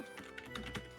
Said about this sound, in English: I could just hear Penny typing